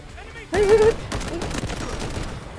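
Gunfire in the mobile shooter Delta Force Mobile: a burst of automatic shots starting abruptly and continuing as rapid crackling fire, with a voice talking faintly underneath.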